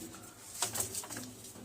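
Pigeons in a loft coo softly and steadily against a faint background hum, with a few brief brighter calls standing out near the middle.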